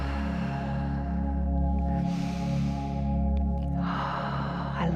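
Slow, deep yoga breaths draw in and out twice, audible as soft airy inhales and exhales over a steady low background hum.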